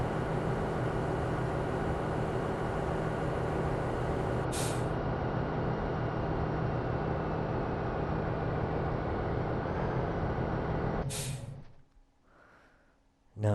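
A freight train in Farming Simulator 17 slows under braking, a loud sustained rumble with hissing bursts of brake air, ending abruptly as the noise cuts away to near quiet.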